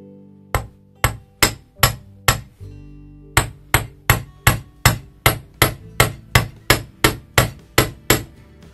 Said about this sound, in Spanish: Y voy a martillar solo un poquito el borde